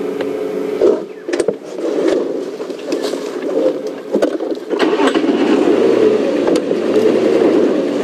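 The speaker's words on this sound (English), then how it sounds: "I've had to reverse the vehicle." A safari game-drive vehicle reverses on a bush track, its engine holding a steady mid-range drone with a few knocks and clunks, close and continuous, with no talk.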